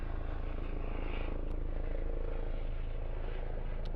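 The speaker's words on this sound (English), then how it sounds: "There is a helicopter outside." Helicopter circling overhead outside a tent, a continuous broad rotor and engine roar at moderate distance, steady and unbroken, with no voices.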